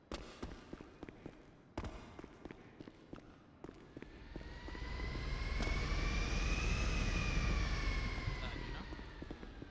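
A jet aircraft engine roars in the GTA video game, building into a steady, loud whining rumble with a rising tone. Several sharp clicks and thumps come before it.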